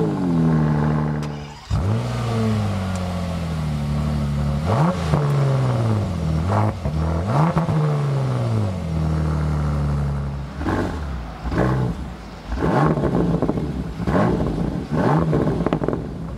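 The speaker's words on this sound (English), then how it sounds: "here we have the Akrapovic exhaust" A 6-litre Bentley Continental GT revs through an Akrapovic exhaust up close, a steady idle broken by a series of sharp throttle blips that rise and fall, with quicker clustered revs toward the end.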